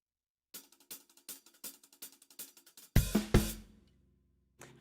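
A drum kit taps out a repeated three-note figure in crisp, evenly spaced hits, then a louder, fuller pair of strikes with the snare drum rings out and decays. A final hit comes in at the end.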